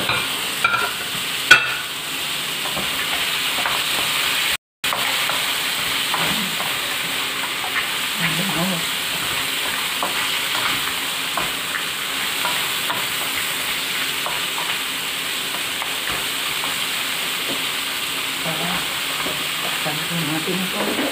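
Shrimp stir-frying in a pan for ginataang kalabasa: a steady sizzle and hiss fills the clip, with occasional stirring clinks and faint background voices.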